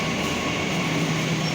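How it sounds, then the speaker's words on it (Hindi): A Delhi Yellow Line metro train arriving, a steady rumbling roar of rolling wheels and motors on the platform, moderately loud and continuous with no talking. "अभी येलो लाइन मेट्रो आ गई अपनी"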